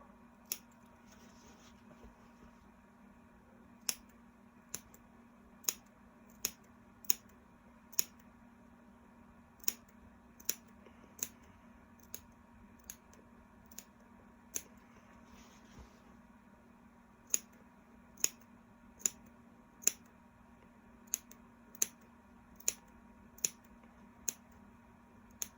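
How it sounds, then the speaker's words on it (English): Scissors snip towel fabric around a curved neckline, producing sharp, isolated clicks at irregular intervals against a quiet hum, with no speech. "So we're just going to go ahead and we're going to snip all the way around."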